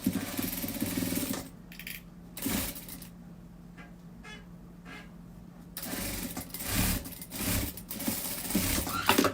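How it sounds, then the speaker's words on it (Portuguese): A sewing machine runs in quick stitching bursts while joining a garment's back to the sleeves, its motor whirring at moderate level with short pauses between runs and a quieter stretch in the middle. "Vou costurar aqui. Costas com um lado das mangas."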